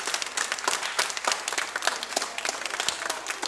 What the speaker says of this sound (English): Let's give our children a hand and our youth.